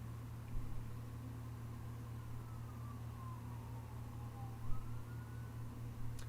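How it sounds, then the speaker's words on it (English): Distant emergency vehicle sirens drift in from outside, a faint wavering wail over steady low background hum, with no talking. "All these sirens and it's not even raining yet."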